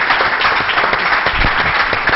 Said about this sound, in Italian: Quindi facciamo un applauso.